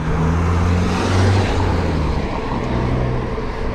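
A car overtakes a road cyclist on a busy, wide road, its engine and tyre roar swelling close by, then easing off as it pulls past.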